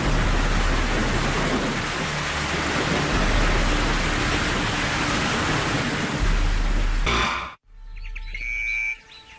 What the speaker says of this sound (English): Rains wash down, restoring life to the savannah and its residents.